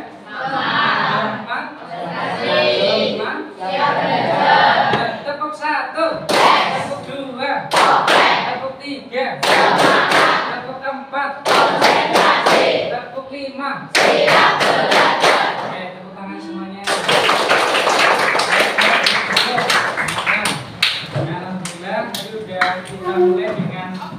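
A school class performs rehearsed clapping patterns during a maths lesson, bursts of sharp, loud group claps in counted rhythmic sets, broken up by a teacher's voice and children's voices speaking between the sets.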